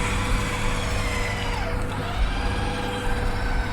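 A truck buried in mud is winched out while its engine is given a little gas, a steady loud droning rumble with a dense low roar and no clear voices.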